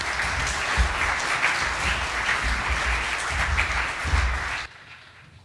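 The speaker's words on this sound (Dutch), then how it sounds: "graag uw applaus voor onze gasten." Loud, sustained audience applause fills a hall in Amsterdam as guests including Bart De Wever are invited onto the stage, a dense crowd of clapping that cuts off abruptly near the end.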